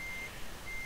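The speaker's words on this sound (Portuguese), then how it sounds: "pra dar ré com caminhão carreta é diferente" Reversing beeps from a truck in the Euro Truck Simulator 2 game, a steady high tone sounding twice with a gap between, over a faint engine hum and no talking.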